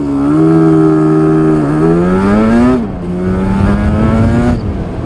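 A Yamaha RD350 YPVS two-stroke motorcycle engine revs loudly and close, its buzzing pitch climbing through two pulls, easing off between them, with brief gear-change dips.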